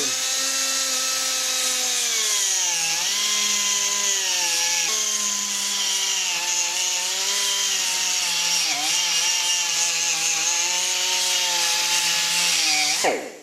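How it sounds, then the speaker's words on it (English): A cone-shaped carbide burr grinds into stainless steel to open up holes, giving a continuous, loud, close whine whose pitch wavers slightly as the cutter bites, running alone until it cuts off at the end. "I put the cone shaped one in just to try and open these holes up a little bit. This is in the stainless."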